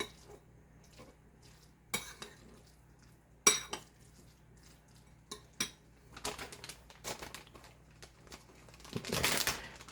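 Ingredients being mixed in a bowl for a quick family meal, faint scattered clinks and scrapes of a utensil against the bowl, quiet at first and building into busier stirring near the end.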